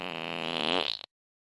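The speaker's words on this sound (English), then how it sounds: "It's gonna take a lot more than a fart in my face" A single loud, buzzy fart sounds for about a second at close range, rising slightly in pitch before cutting off abruptly into silence.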